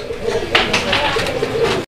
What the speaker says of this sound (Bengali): এখানে একটা সিঙ্গেল কবুতর আছে, একটা সিঙ্গেল কবুতর